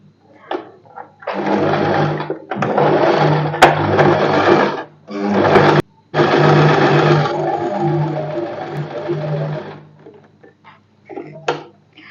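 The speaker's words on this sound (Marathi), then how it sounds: "हे पण एकदम स्ट्रेट असं स्टिच करून घ्यायचं आहे नेकलाईन आणि खालचे भाग हे जोडून घ्यायचे आहेत" Sewing machine stitching the neckline seam of a padded princess-cut blouse, loud close bursts of rapid needle chatter in several runs separated by short pauses, with a few faint clicks at the end.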